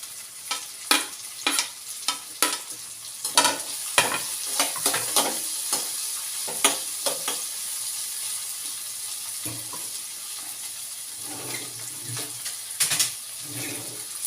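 Onion, tomato, beans and carrots being stir-fried in a pan, with repeated scraping stirs and a steady sizzle underneath, a few brief watery splashes near the end.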